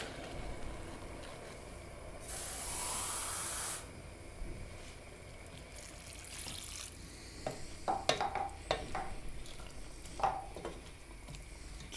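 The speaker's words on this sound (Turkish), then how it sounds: "Suyumuzu ilave ediyoruz." Water poured into a hot pan of leeks bursts into a loud hiss for about a second and a half, followed by quieter sizzling, clinks and stirring sounds.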